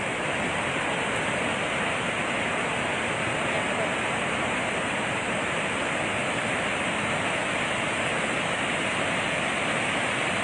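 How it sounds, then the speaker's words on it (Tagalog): Torrent of water rushing out of the Magat Dam spillway, released during a typhoon, a loud continuous broadband roar that never lets up, with a brief spoken remark barely above it. "Kaya kailangan pakawalan ng tubig yung Magat Dam."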